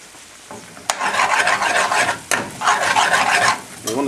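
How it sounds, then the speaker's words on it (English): Five finely chopped garlic cloves hit hot melted butter and oil in a pan, bursting into a loud, close sizzle that swells in two waves with scraping stirs between, no talk. "We take 5 finely chopped cloves of garlic and just add them into the pan"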